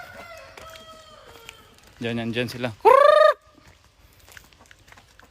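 Shamo Aseel hens give a few short clucks and a brief loud squawk near someone speaking Filipino.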